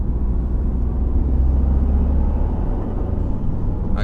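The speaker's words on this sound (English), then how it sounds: "Okay, definitely a lot more induction noise." A Toyota GR Yaris fitted with a PIRAS Motorsport airbox rumbles from inside the cabin, a low, steady induction drone while driving, with a brief faint rise near the end.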